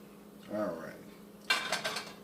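Cooked onions are scooped out of a cooking pan for lasagna, with a soft scrape first, then a cluster of metal clinks against the pan, close and fairly quiet.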